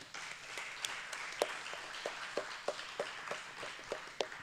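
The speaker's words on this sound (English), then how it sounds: "give yourself a round of applause for that." A small audience at a community conversation about youth mental health claps, with sparse, distinct hand claps ringing out in an uneven rhythm, fairly quiet in a roomy space.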